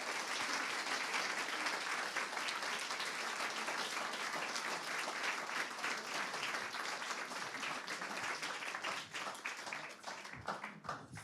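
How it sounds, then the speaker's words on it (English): An audience at a live awards ceremony applauds steadily for about eleven seconds, a dense and even wash of many hands clapping that thins slightly toward the end. "if we can give a massive round of applause for all the work that they're doing"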